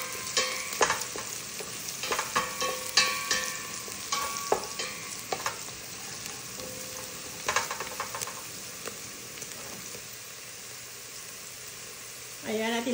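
Spices and onions frying in a pan for chicken kabsa while being stirred, with a steady sizzle under repeated scraping clacks of a utensil against the pan, close and fairly loud.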